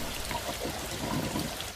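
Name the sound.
rainwater swishing and tumbling down a drain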